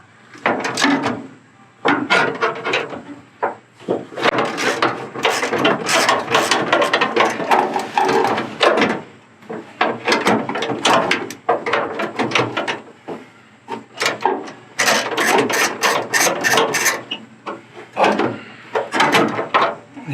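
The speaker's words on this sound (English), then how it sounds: "I'm going to remove this lower bolt, hopefully." A ratchet wrench backs out the lower bolt of a 1965 Mustang rear quarter window track, clicking loudly and closely in repeated bursts of fast ratcheting, with short pauses between strokes.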